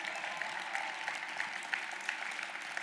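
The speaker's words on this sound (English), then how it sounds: "somebody need to clap louder than that" Audience applause at a UNCF Mayor's Luncheon in Cleveland, a moderate, even patter of many hands clapping at some distance, steady for the whole stretch.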